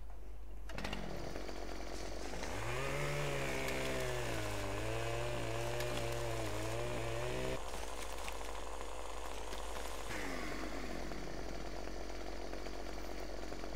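A video-game chainsaw in Farming Simulator, felling trees, revs up and holds a buzzing, wavering drone for several seconds, drops away, then revs briefly again over a constant low hum.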